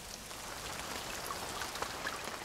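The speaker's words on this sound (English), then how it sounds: "it's now raining cats and dogs on our archaeologists in Trench 1" Heavy rain pours steadily outdoors over an archaeological dig trench, a dense even hiss with scattered individual drops pattering close by, no voices.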